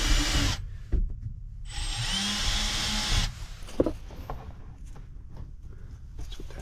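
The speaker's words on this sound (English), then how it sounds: "I'm just going to drill a hole." Power drill boring a hole for an arcade button in a DIY melody box install: two bursts of high whirring, a short one then a longer one, followed by quieter handling clatter and knocks.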